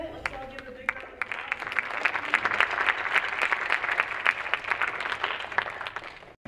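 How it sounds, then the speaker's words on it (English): A local audience breaks into steady, sustained applause, many hands clapping densely and fairly loudly for several seconds, with a brief quieter start before the full crowd joins in. "let's all give a big round of"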